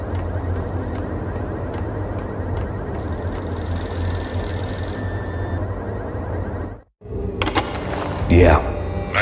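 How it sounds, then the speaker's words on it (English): A payphone rings in the Max Payne video game, repeated telephone bell trills over a low ambient drone, followed by a thud and brief clatter near the end. "payphone started to ring."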